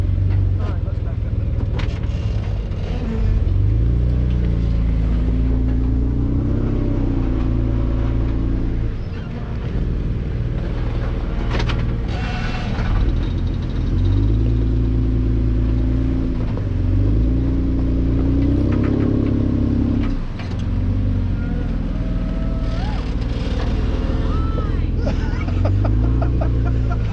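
Off-road vehicle reversing on a sand trail at Sand Hollow, its engine revving up and down in repeated loud surges close by, with people talking over it.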